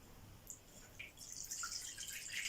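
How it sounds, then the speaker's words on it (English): Warm water runs into a washing-up bowl with a little washing-up liquid in it, a soft, faint trickle and splash that grows steadily fuller toward the end. "And then we'll put some warm water in it."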